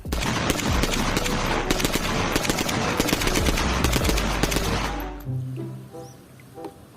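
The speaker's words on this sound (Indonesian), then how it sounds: "Wow, yang ini mainan tembak-tembakan." A plastic toy gun fires rapid electronic machine-gun bursts, loud and close, for about five seconds, then cuts off, leaving faint tones and quiet handling.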